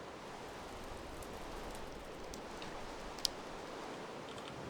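Steady soft rain falls in Minecraft, a faint, even hiss with occasional light ticks and one brief click, with no talk.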